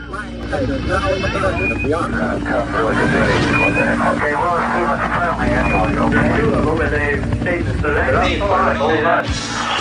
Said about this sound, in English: Oh my God, I know that's a plane.